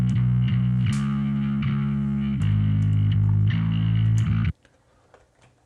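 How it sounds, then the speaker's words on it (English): A heavily distorted bass guitar plays an album chorus, thick and loud with sustained chords changing every second or so, then cuts off abruptly near the end into near silence with faint clicks. "The chorus is obviously running on full distortion."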